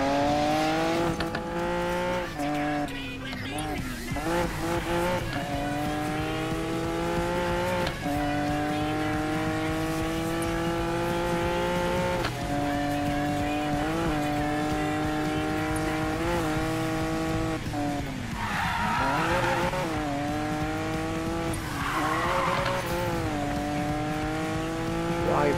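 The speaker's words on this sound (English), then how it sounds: "Definitely doing handbrake turns a lot better as well" Need for Speed Payback car engine revving loud and continuous through handbrake turns, with pitch swooping up and down and bursts of tire skid noise around the later turns.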